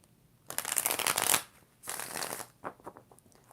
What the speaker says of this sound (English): 3 more shuffles.